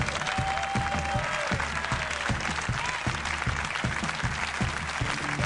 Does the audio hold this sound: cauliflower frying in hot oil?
no